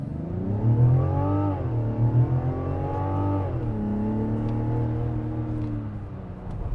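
A 2025 Mazda CX-90 mild-hybrid SUV with a 3.3-liter turbocharged inline six, in sport mode, accelerates hard at full throttle, its loud engine note climbing steadily through the gears with brief dips at each shift.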